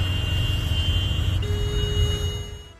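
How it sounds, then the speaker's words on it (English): Car horns sound in busy Abuja street traffic: a sustained horn tone is joined by a second, lower horn over a rumble of engines, then the noise fades out. "The constant sound of car horns can be overwhelming."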